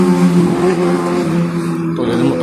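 A big bike motorcycle runs along a roadside in Cavite, its loud engine drone holding steady and close with shifting pitch as it goes by, no voices over it.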